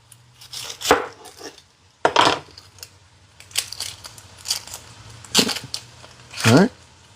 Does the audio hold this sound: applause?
no